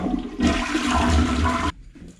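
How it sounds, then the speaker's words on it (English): A toilet flushes in a loud, close rush of water that lasts over a second and then cuts off abruptly, followed by quiet, with no talking. "I'm going to flush the toilet."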